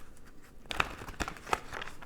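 Tarot cards being shuffled, a few soft crisp riffles and slaps in quick bursts after a quiet start, faint and close.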